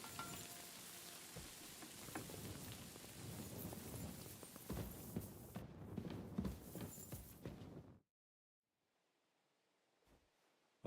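Rain in the medieval game Kingdom Come: Deliverance II, a dense hissing patter with scattered louder drips that runs steadily for about eight seconds, then cuts to near silence.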